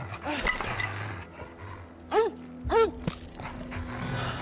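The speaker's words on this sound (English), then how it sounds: "That dog looks scary, bro." Dog barks in the video game As Dusk Falls, two sharp close barks with a short gap between them, set over a low droning game score and ambient background.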